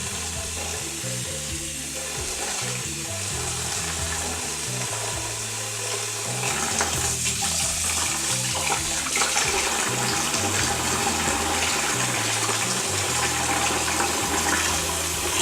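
Continuous rushing of running water pouring into a container, growing fuller and louder midway, with a low hum beneath.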